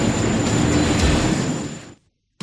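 A train passes close by with a loud rushing rumble and rail noise that cuts off abruptly, followed by a brief silence and a short burst of sound.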